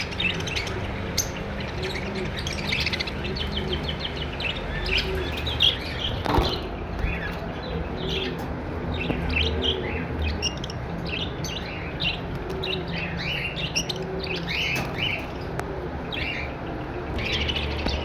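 Chirping pet birds, albino black split red-eye breeder pairs, keep up a dense, continuous chorus of overlapping tweets and calls, close and steady throughout with no talking.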